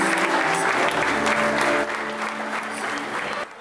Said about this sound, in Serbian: publika je to pokazala divnim aplauzom